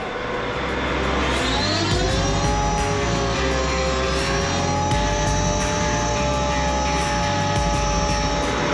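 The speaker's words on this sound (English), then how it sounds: "we are ready to test the system and put some hydraulic flow here" A hydraulic drive system runs steadily under test, giving a loud continuous mechanical whine and hum with rising and falling tones over a low drone. No one speaks.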